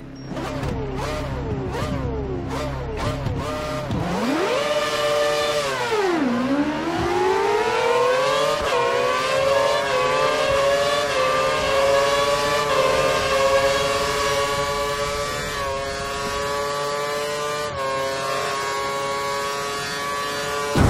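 Formula 1 race car engines in the F1 2013 video game rev up in a long rising, whining howl, dipping once and then climbing again into a sustained high-pitched scream that carries on for about twenty seconds.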